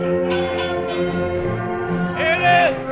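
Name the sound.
wrestling match bell ringing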